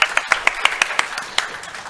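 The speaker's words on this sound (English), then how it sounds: "Come on, everyone. Clap." Sparse audience clapping at a Yocto Project and OpenEmbedded BoF conference session, a dozen or so distinct claps in a loose, thinning rhythm, fairly close and moderately loud with no talk over it.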